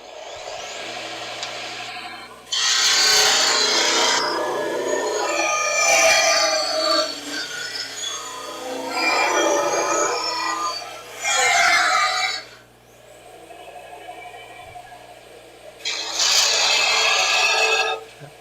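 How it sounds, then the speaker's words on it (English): An electric sander runs in a workshop in several long bursts, with a rough, raspy whine that stops and starts. Between bursts there are short quiet gaps under a low steady hum. "that lovely sound is Dad on the sander"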